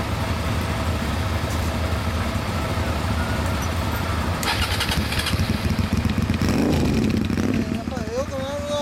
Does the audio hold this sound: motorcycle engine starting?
yes